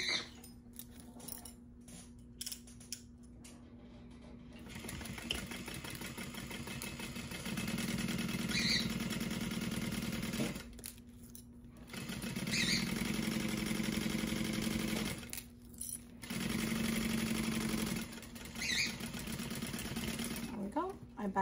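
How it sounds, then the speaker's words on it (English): Sewing machine stitching the seam of a crossbody bag, its motor running in steady bursts with brief pauses between runs, close and moderately loud, with some quiet handling noise. "so we're gonna sew it together"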